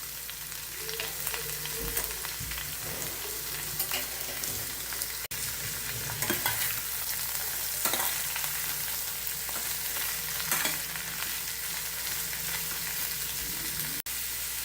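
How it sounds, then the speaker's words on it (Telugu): Chopped beetroot fries in a pan with a continuous crackling sizzle, while intermittent stirring scrapes and clatters rise over it at a close, even level. "అన్నీ వేగిన తర్వాత చిన్నగా ముక్కలు చేసుకున్న బీట్రూట్ని వేసుకోవాలి."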